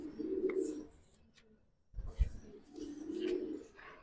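Giribaz pigeons give low, soft coos in two close bursts separated by a short pause, with a brief thump between them and faint chatter in the background.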